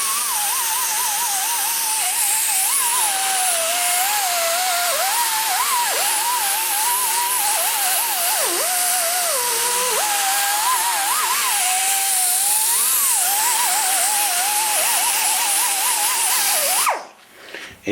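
A rotary tool buffs the rough combustion chamber of a Chevy TBI cylinder head, removing sanding lines and leftover glue: a loud, steady high-pitched whine with wavering pitch as the load changes, running continuously before cutting off at the end.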